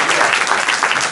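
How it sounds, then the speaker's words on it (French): Dense, loud audience applause at an improv show during the Impro en Seine 2024 festival, a steady wash of many hands clapping together throughout with no break. "on l'applaudit bien fort"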